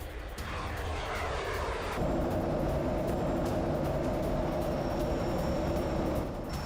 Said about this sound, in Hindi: डेनमार्क के F-35 फाइटर जेट्स उड़ान भर रहे हैं।